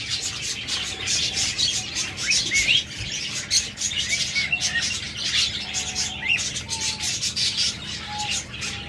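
Many caged budgerigars and lovebirds in breeding setups chirp and tweet continuously, a dense overlapping chorus of bright calls with occasional wing flutters, close and steady throughout.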